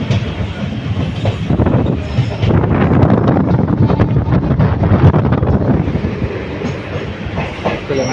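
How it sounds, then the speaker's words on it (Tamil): A train arrives at Karaikal station, its loud, continuous rumble mixed with rhythmic wheel clatter and heavy wind buffeting the microphone, steady throughout. "கரெக்டாக 11:30க்கு இந்த வண்டி காரைக்கால் வந்துருச்சு"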